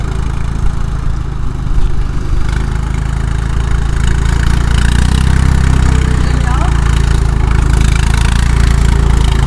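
A steady, loud engine drone from a Swaraj 855 tractor pulling uphill runs the whole way through with a heavy low rumble, with faint voices mixed in.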